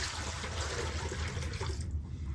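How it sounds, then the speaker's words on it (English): Basin water from a partial bed bath dumped into a sink, a loud continuous splashing pour that ends abruptly near the close. "I'm gonna dump my water in the sink."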